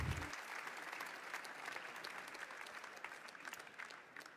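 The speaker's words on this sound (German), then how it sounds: "Einen großen Applaus. A very big hand." Audience applause at the opening of the 73rd Frankfurt Book Fair, a steady dense patter of many hands clapping throughout, moderately distant and filling the hall without a break.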